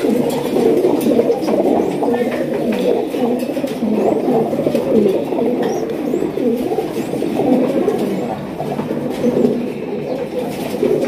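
Pigeons, including an active sky-blue cock, coo in repeated low, throaty rolls, steady and fairly close over a faint background murmur.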